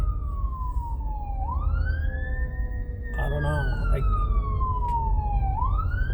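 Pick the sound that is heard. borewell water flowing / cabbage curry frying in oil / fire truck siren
fire truck siren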